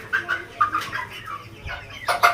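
Chickens clucking at a market chicken shop, several short nearby clucks and squawks in an uneven rhythm, with no talking.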